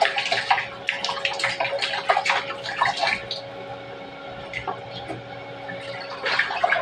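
Water splashes close by at a sink during face washing, with irregular bursts and trickles over a faint steady hum, and quieter stretches in between.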